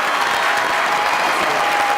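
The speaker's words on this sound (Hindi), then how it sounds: "स्टैंडिंग ओवेशन हुआ।" A studio audience on a comedy talk show gives a standing ovation, and a continuous, dense roar of clapping fills the whole stretch at a steady level.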